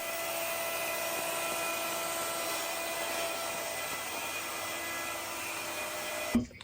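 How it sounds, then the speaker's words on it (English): A CNC machine cutting pockets into baseboards in another room of a woodworking shop, heard as a steady, high-pitched whining drone that holds level throughout, ending with a brief sharp knock. "machine in the other room there cutting out the baseboards with all the pockets in it"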